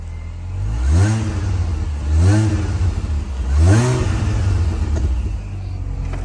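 Mini Cooper S R53 with a custom exhaust on a cold start, revving three times in a steady rhythm, each rev rising and falling over a loud, close idle rumble.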